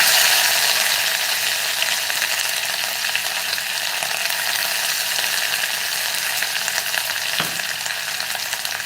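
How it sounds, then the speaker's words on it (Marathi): Curry leaves and thecha, a crushed chili relish, sizzling as they are added to hot oil with cumin for a Maharashtrian pithla tempering, a loud continuous frying hiss lasting throughout with a brief clink near the end. "बघा जिरं फुलल्यानंतर कढीपत्त्याची पानं घालूया आणि आपण जो ठेचा तयार करून घेतला होता ना तो घालूया"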